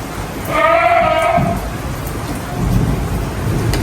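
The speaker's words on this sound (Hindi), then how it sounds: "बाहर बारिश शुरू हो गई है" Steady rain patters nearby as a low thunder rumble rolls in, with a bleating goat call early on.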